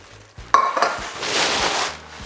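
A new stainless steel pot is handled during an unboxing, giving a sharp metallic clank followed by a brief ring and a stretch of rustling, scraping contact, all close and fairly loud, with no talking.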